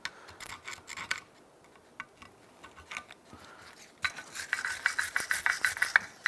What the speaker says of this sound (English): You want to take a wire brush, clean the bracket right where the sliders go.